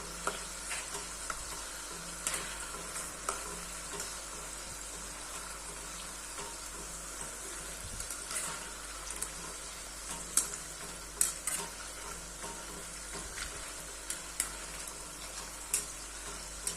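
Khari shankarpali, a flaky savoury pastry snack, frying in hot oil with a steady soft sizzle while scattered stirring clicks and scrapes keep turning the pieces, moderately faint and free of talk.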